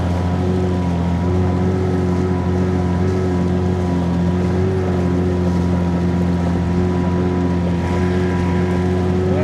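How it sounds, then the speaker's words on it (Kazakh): Outboard-motor boat running steadily across open water on a fishing trip, its engine drone loud and continuous with a buzzing harmonic whine, wind rushing over the microphone throughout. "Мотормен кетіп бара жатырмыз"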